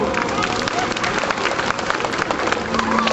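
Light applause from an audience at a sea lion show in the UK, steady patter of scattered clapping mixed with crowd babble, moderately loud throughout.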